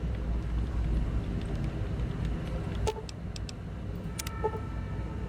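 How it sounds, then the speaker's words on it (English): Machinery in a cramped elevator control room in Fallout: New Vegas drones with a steady whir over a low rumble, broken by a few faint clicks and short electronic beeps. "the air is filled with a high whirring noise from the machines"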